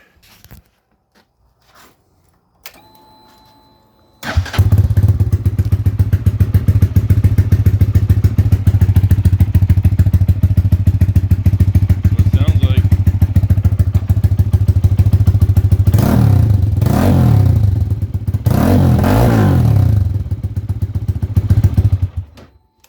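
A Lifan KPM 200 motorcycle fitted with a straight-back exhaust fires up after a few clicks and idles loudly with a deep, steady rumble, blipped with a couple of throttle revs near the end.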